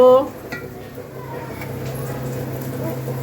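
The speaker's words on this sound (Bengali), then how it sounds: "এখন কুমড়ো ভাজা বসিয়েছি" Pumpkin slices frying in a pan in a home kitchen, a steady soft sizzle with light stirring and clinks of utensils against the pan, close by, with no one talking.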